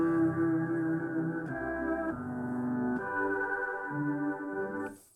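Sampled passage from a record played back from a keyboard, with sustained, layered tones that shift chord every second or so, steady and moderately quiet before cutting off.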